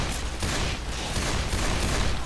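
Gunfire in the zombie shooter Left 4 Dead 2, a dense, continuous rattle of shots from the survivors' weapons, steady and loud with no clear gaps, heard alone without talk.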